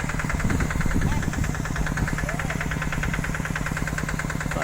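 A modified tractor engine drives crop sprayer nozzles, its steady close idle-like chugging running evenly throughout with a faint hiss over it.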